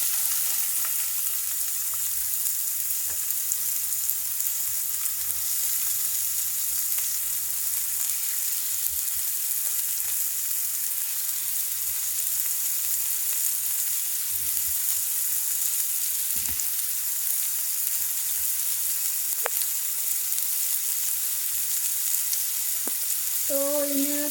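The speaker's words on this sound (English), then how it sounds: "So in a slow flame, let the onions get cooked." Onions frying over a low flame in a pan, a steady, continuous sizzle running unbroken throughout with no one talking.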